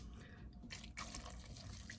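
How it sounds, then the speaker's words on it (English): Pasta water is poured into a tuna casserole dish, a soft, close splashing stream that gets fuller and more vigorous partway through, with faint kitchen background and no talk. "Now this is when we're going to add a little bit of pasta water."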